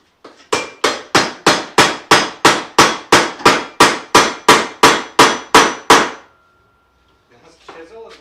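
A hammer drives a chisel to strip wood away in a garage during a radiator replacement on a Mazda RX8: about fifteen loud, ringing blows in quick, even succession, followed by silence and then brief voices.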